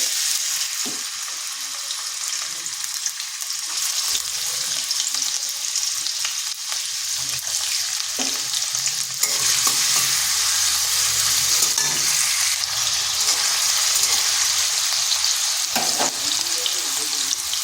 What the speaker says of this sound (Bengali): ওদিকে ডালটা সেদ্ধ হচ্ছে, এদিকে আমি সবজিগুলো ভেজে নেব।